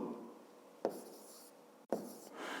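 Handwriting on paper during a 5th-grade maths exercise, a soft continuous scratching with two sharper strokes, quiet and close.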